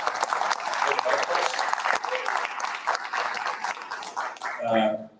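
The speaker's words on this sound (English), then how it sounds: "A round of applause for Cassandra." Applause for Cassandra Goldie at a farewell event, a dense, sustained round of clapping from an indoor audience, easing slightly before a voice briefly comes in at the close.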